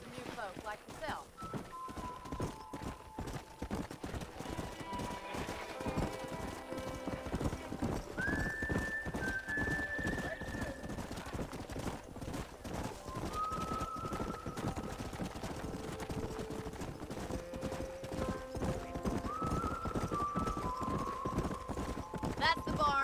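Horses in Red Dead Redemption clip-clop in a steady, close rhythm with occasional neighs and whinnies, while a person talks over the hoofbeats throughout.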